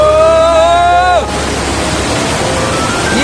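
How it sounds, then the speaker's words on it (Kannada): Water pours down Ermai Falls, a waterfall near Bangaadi and Ujire in the Western Ghats. A brief tonal sound ends and a loud, steady roaring rush of falling water takes over and holds constant. "ಹಿಂದ್ಗಡೆ ಕಾಣಿಸ್ತಿರೋದು ಎರ್ಮೈ ಫಾಲ್ಸ್."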